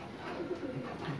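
Pigeons coo softly at a champion racing loft, a few low throaty coos close by over light background noise.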